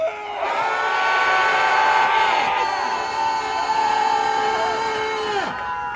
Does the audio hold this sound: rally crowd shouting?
yes